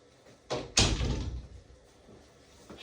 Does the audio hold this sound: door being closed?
yes